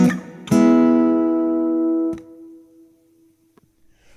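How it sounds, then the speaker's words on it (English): An acoustic guitar through a Udo Roesner Da Capo 75 amplifier with a long hall reverb: two strummed chords ring out and decay slowly into a lingering tail, with a light pluck near the end, alone and fairly close. "We've got kind of a long haul reverb,"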